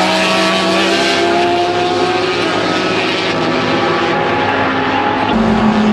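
Race cars roaring loudly and continuously around a 31-degree banked speedway during an endurance race, engines droning close with a shift in pitch near the end, no voices over them.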